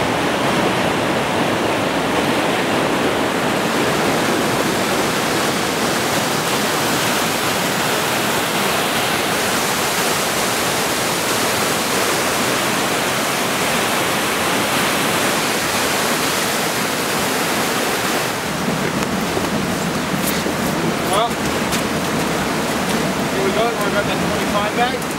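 Glacier-fed Cheakamus River creek near Whistler rushes steadily in a dense, continuous roar of flowing water, close and loud throughout with no breaks.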